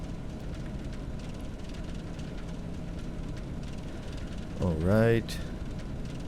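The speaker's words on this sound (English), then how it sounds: "let's lift up the nose a bit and take off" Airplane engines drone steadily before takeoff, a constant low hum filling the cabin, while someone speaks briefly over it near the end.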